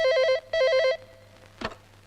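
A telephone rings in two loud, warbling electronic bursts with a pause between, followed by a click as the handset is picked up.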